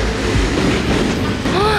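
A train rolls past a café with a steady rumble and clatter of wheels on rails, close and loud, with faint squealing tones near the end.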